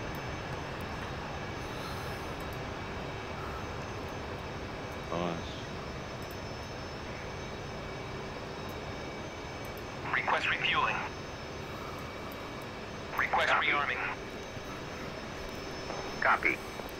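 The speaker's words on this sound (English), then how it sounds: "And there's the C-130." C-130 transport aircraft in a carrier-based flight combat game, its engines a steady droning hum throughout, with short bursts of people talking over it.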